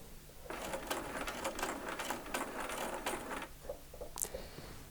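A sewing machine runs steadily while stitching an eight-point quilt star along a marked line toward a seam crossover, a close, dense mechanical whir that eases off near the end into a few lighter clicks.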